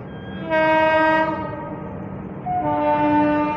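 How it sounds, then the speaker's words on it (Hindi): The Guwahati–Bengaluru superfast express sounds its horn as it crosses, giving a long loud harmonic blast and then a second, lower blast over the steady rumble and rattle of the train, with no talking. "क्रॉस होने वाली है गुवाहाटी बेंगलुरु एक्सप्रेस"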